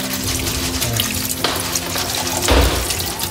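Water is poured steadily over freshly prepared nhóng (palm grubs) to rinse them clean, a continuous splashing rush that swells briefly near the end.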